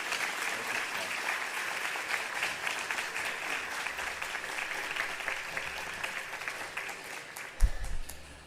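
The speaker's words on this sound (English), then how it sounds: "Round of applause." Sustained audience applause at an outdoor unveiling ceremony for the Friendship Bench, a dense, even patter of many clapping hands continuing throughout, with a brief low thump near the end.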